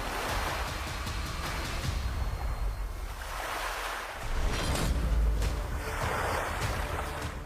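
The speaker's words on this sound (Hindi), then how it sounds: "लहरें बहुत तेज थीं।" Strong sea waves roll and crash off Dwarka, a loud, rough churning surge with heavy wind buffeting the microphone and a swell that builds near the end, heard from a boat out on the water.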